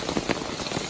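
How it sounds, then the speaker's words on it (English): Steady rain pattering on a tent during a wet morning on the Appalachian Trail in the White Mountains, a dense, close, continuous hiss with small irregular drops and no voices. "And the rain's not stopping anytime soon."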